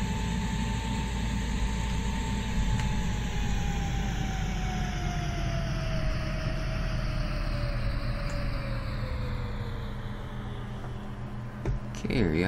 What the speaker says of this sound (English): See, a good top end on this tractor too